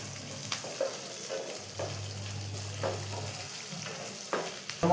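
Chopped carrots frying in a pan for rava kichadi, a low continuous sizzle with occasional soft stirring scrapes, fairly quiet and close, with no talking.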